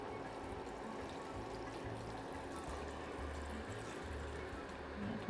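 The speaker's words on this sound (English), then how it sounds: "add in some water" Water is poured into a pot of Trinidadian beef soup, a steady, faint trickling stream running throughout over a low background hum.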